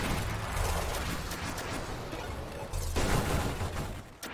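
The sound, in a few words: railgun explosions in the video game Nova Drift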